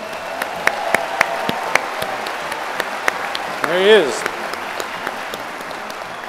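A full house at the Detroit Opera House applauds steadily for Michigan football coach Jim Harbaugh at a benefit launch, a dense wash of clapping with a brief cheer, while someone speaks briefly over it.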